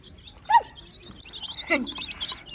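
Baby chicks chirp while pecking at scattered feed outdoors in a village field, with a few distinct high tweets standing out over a faint background of more chirping.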